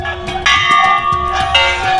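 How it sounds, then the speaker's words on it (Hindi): A temple bell rings repeatedly with bright, sustained metallic tones and overlapping strikes, loud and close, ringing continuously throughout, at Kusheshwar Asthan temple in Bihar. "सब लोग घंटी बजा रहे हैं यहाँ पे। चलिए हम लोग भी घंटी बजाते हैं।"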